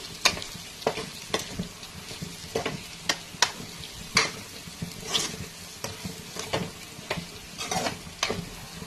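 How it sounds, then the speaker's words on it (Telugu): Mutton with turmeric is stirred in a frying pan, a soft ongoing sizzle broken by repeated scraping and clattering strokes of the spatula at an irregular rhythm, close and fairly quiet. "పసుపు వేసి కాసేపు కలిపేసి ఉంచుతాను."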